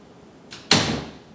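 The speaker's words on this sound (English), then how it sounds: "let's check the effect on the door. It should sound something like this." A door creaks softly, then clicks shut with a sharper thud that rings out briefly, alone and close by.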